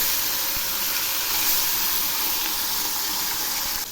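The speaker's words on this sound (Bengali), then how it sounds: "তেল গরম হয়েছে, এবার আমি মাছগুলো ছেড়ে দিচ্ছি" Koi fish slid into hot mustard oil in a kadai, bursting into a loud, continuous broadband hiss and sizzle that holds steady from start to finish, close up with no talk.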